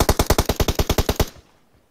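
Rapid automatic gunfire in a video game team deathmatch, about a dozen evenly spaced loud shots in a fast burst that stops abruptly, with no talk.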